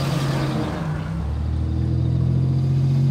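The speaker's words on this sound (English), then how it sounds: "he did a burnout in his Avalon" A Toyota Avalon's engine roars in a sustained, steady drone with a rising rumble, loud and fairly close, on a rural Wisconsin road.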